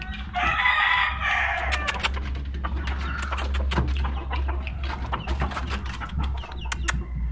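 Fighting cocks crow and cluck nearby, with a long crow at the start followed by scattered clucks and calls over a low background hum.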